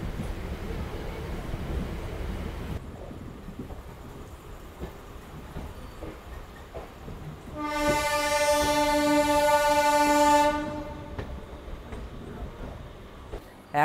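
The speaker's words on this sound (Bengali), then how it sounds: "তো এই ট্রেনটা তো এখন বাঁকুড়া চলে যাবে, আর আমি বিষ্ণুপুরে নেমে গেলাম।" A local passenger train on the Bankura–Bishnupur line rumbles past at night, its rolling noise building before a loud, sustained horn blast of about three seconds, then the train's rumble carries on alone.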